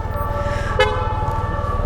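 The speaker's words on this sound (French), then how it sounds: "il passe au vert, ça klaxonne, c'est incroyable" A car horn gives a single short toot amid the steady rumble of night traffic on a Paris street, heard from a motorbike, with a fainter honk shortly after.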